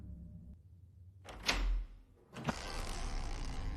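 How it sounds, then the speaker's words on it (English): A door opens with a thunk and a brief rush of sound, followed by a second knock and a sustained airy noise, all fairly faint and without talk. "I opened the door."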